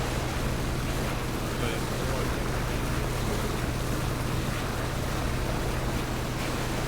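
Steady broadband rush of a motorboat in the PUBG video game, a continuous engine and water wash with wind-like hiss, constant in level throughout and with no speech on top.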